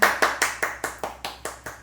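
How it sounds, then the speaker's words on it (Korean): Eight evenly spaced claps ring out in a steady rhythm during a Sunday church service, crisp and moderately close, with no voices. "우리 하나님께 영광의 박수 올리도록 하겠습니다"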